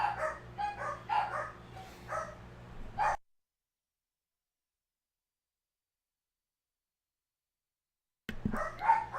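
Indoor dogs bark in a run of loud, close yaps for a few seconds, then cut off into silence before another burst of barking starts near the end.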